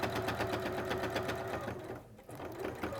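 A sewing machine runs steadily through layers of fabric for an embroidered tote, a fast even stitching whir close by that pauses briefly before starting again.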